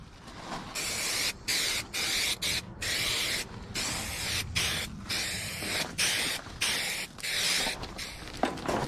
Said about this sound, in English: And a little bit of spray glue to hold the film on.